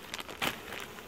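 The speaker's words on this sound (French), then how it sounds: "Et ça vole une abeille, donc elle retourne directement dans le truc" Honeybees buzzing at a hive while a beekeeper works it with smoke: a brief, faint insect hum with a slightly louder swell midway through.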